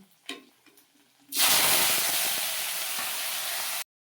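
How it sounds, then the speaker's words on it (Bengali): Vegetables fried one by one in hot oil in a kadai: a few soft clicks, then a sudden loud hiss of frying that holds steady for a couple of seconds before cutting off sharply. "এবার আমি সব সবজিগুলো এক এক করে ভেজে নেব"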